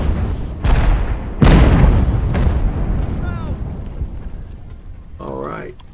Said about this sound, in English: You see the guy preparing the wick, firing the cannon.